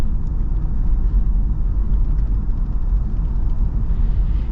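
A 2024 Lexus GX550 Overtrail driving over a bumpy road, heard from inside as a steady low rumble of road and engine noise, continuous and fairly loud, with no talking.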